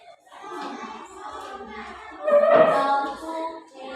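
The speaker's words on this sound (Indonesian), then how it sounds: "mari kita tepuk hebat" Schoolchildren in a classroom clap for a group in a rhythmic cheer, with their voices chanting along; hands and voices blend into a steady, moderately loud burst that swells near the end.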